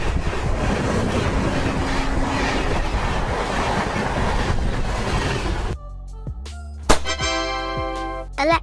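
An electric train runs with a broad, steady rumble and rolling rail noise for several seconds, then the sound cuts to a quieter section with sharp tonal accents near the end.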